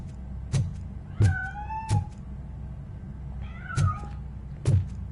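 A cat meows several times in short, rising calls mixed with sharp thuds, close and fairly loud, with no talk over it.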